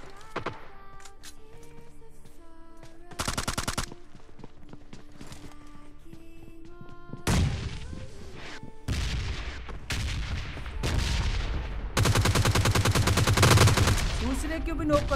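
Gunfire in the PUBG Lite battle royale game: repeated bursts of rapid automatic shots and single cracks, loud and close, growing denser toward the end with no talk over them.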